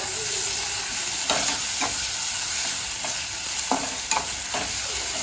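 Crushed ginger, garlic and green chili frying with softened onions in hot oil, a steady close sizzle with a few scraping stirs of a spoon.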